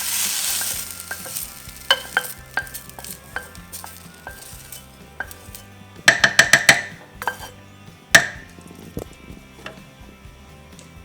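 Cooked onions tipped into a pan of sizzling beef stew, a soft frying hiss with scattered clinks and scrapes of a utensil, then a quick burst of rattling knocks and a sharp clank, close and without talking.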